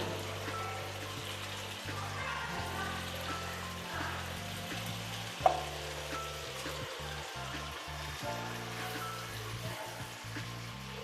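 Hilsa fish pieces, rubbed with turmeric and salt, fry in a pan of spice paste, giving a faint, steady sizzle and crackle under low background tones.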